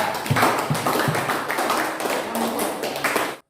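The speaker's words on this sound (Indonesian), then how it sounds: "Kita berikan dulu tepuk tangan untuk kelompok 4." A classroom group applauds for a presenting student team, dense steady clapping from many hands at close range lasting about three seconds before cutting off abruptly.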